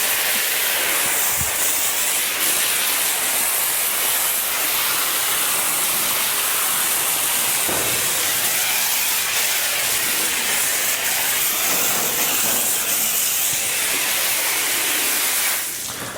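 Water sprays steadily from a hose, rinsing medicated soap out of a calf's slick-shorn hair, a loud continuous broadband hiss lasting about sixteen seconds with no speech.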